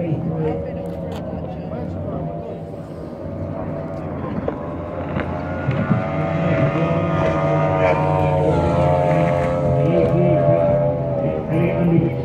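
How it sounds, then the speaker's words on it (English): Older racing ski boat engines at a water skiing race off Weston-super-Mare roar continuously, a loud droning motor sound with wind buffeting, rising slightly toward the end while a commentator talks over it. "Some of those older 86 engines sound that little bit noisier."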